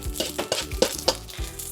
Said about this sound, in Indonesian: Lalu kita aduk lagi.